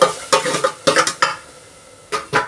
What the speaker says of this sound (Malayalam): അപ്പോൾ നമ്മളെ മസാലക്കൂട്ട് ചട്ടിയിലേക്ക് ഇട്ട് കൊടുക്കട്ടെ